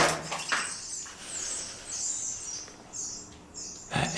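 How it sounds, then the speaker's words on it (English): Thin, high chirps from a baby owl hatching inside its egg in a cell of an abandoned prison, several short peeping bursts, close and fairly clear, over a quiet room hiss with no voices. "That egg is hatching with a baby owl in it."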